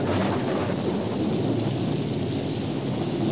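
A storm pours steady, dense rain with a continuous rumbling roar of thunder beneath it, loud and unbroken, in an animated prehistoric adventure.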